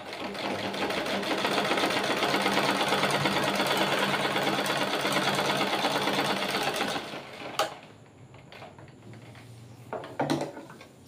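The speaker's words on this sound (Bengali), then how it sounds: "এইভাবে তোমরা একটা এমনি মেশিনে সেলাই দিয়ে নিতে পারো" A sewing machine stitches a blouse hem in a steady, loud, close whirring run for about seven seconds, then stops, followed by a few quiet handling clicks and bumps.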